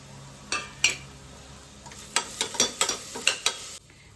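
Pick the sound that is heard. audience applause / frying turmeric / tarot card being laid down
frying turmeric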